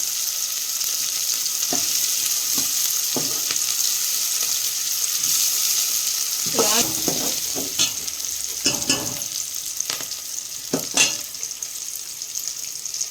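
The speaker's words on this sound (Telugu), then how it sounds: "ఇలా బాగా కలుపుకుంటా ఉండాలన్నమాట" Chicken biryani masala sizzles steadily in a pan while a spoon stirs it, scraping and clinking in irregular bursts over constant frying hiss, close up.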